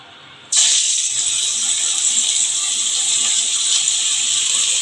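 Steamed cauliflower drops into a pan of plenty of hot oil, setting off a sudden loud sizzling hiss that stays strong and steady to the end.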